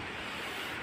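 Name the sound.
flowing water at a snail-collecting spot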